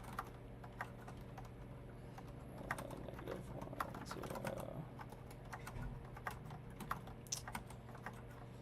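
Someone types code on a computer keyboard with quick, uneven key clicks in rapid bursts, close and fairly soft, over a low steady room hum.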